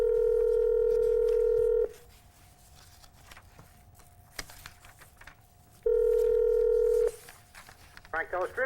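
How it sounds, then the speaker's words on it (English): A telephone number is dialed over a radio call, with two bursts of loud steady touch-tone beeps separated by a quieter stretch holding a faint tone and small clicks. "Hope I dialed the right number."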